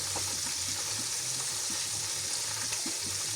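Dubochki sizzling in a frying pan as they brown, a steady crackling fry with scattered pops and spits, close and continuous.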